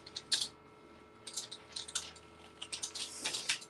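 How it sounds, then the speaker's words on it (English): Fast, loud typing on a computer keyboard, with quick irregular bursts of clicking keys close by and no speech. "She's madly typing away."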